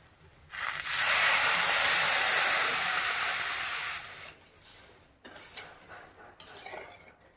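Water poured into frying spices in a pan of fish curry, a sudden loud hissing sizzle that holds for a few seconds then fades into softer bubbling and crackles.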